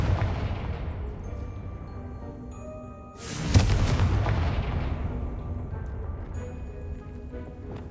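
Spell blasts from Bombarda and Confringo in Hogwarts Legacy: a loud booming impact that bursts out suddenly and then rolls away into a long fading rumble and crackle, heard after a quieter stretch of lingering reverberation.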